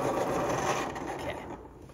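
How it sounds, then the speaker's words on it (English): A pencil is sharpened during a shoe-drawing demonstration, producing a continuous close grinding and scraping that fades slightly toward the end, with no talk over it. "Let me get this pencil a little bit sharpened here."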